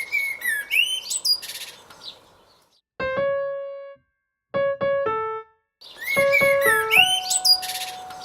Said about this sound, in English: Let's listen to a blackbird.